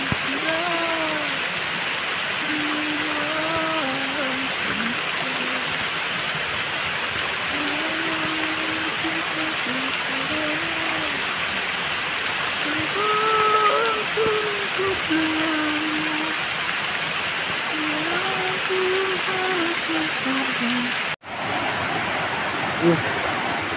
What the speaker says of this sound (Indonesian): Hujan deras sekali ini di pondok hutan ini.